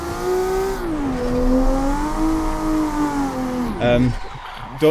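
Nissan Skyline R33 driven on the Yas Marina circuit in Abu Dhabi, engine droning steadily in-cabin with pitch rising and falling through gear changes, then a sharp downshift and brief blip near the end.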